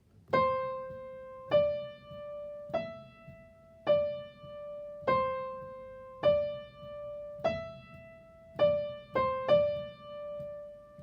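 Solo piano playing the chorus of a song, with chords struck about once a second, each ringing out and decaying before the next. No voices.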